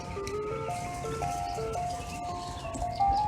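An ice cream truck plays its tinkling jingle melody, a steady string of bright looping notes, fairly close and clear, with a faint voice underneath.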